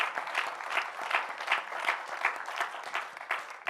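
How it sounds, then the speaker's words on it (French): A church congregation claps after a sermon, with rhythmic, steady applause in regular pulses and no voices over it. "Applaudissons pour le Seigneur."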